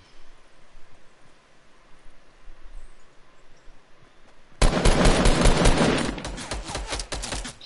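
Rapid automatic fire from an enemy's SCAR rifle in Fortnite, starting abruptly partway through and carrying on loud and close for about three seconds after a quiet stretch of ambient game noise.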